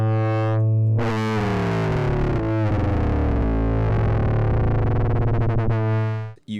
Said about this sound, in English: you can use the feedback to make really harsh and distorted sounds